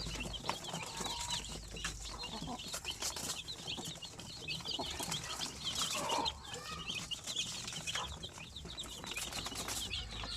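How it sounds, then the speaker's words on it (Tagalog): Young two-week-old chicks in a coop give dense, continuous high peeping and cheeping, a busy chorus of many birds close by with occasional fluttering. "mag 2 weeks old na itong mga sisiw na ito. Malakas na rin kumain no?"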